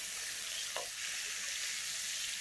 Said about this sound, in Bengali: চিংড়ি মাছগুলো খুব বেশি ভাজার দরকার নেই, অল্প ভেজে নিলেই হবে।